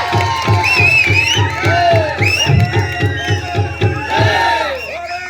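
A crowd at a staged Ramlila-style performance cheers and shouts loudly in rhythmic bursts, whooping voices layered over a steady pulsing beat, close and sustained.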